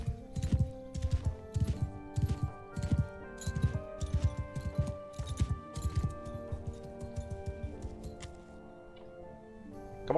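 Horse hooves clip-clopping in the video game Mount & Blade II: Bannerlord, a rhythmic run of sharp, close hoofbeats that slows and softens toward the end over a faint musical background.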